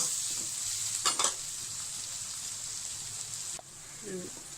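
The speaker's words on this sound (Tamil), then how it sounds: "வெங்காயத்தையும் நல்லா செவக்கா வதக்கணும்" Onions sizzle and fry in a pan for a mango fish curry, a steady close hiss with a few brief stirring scrapes of the spoon against the pan.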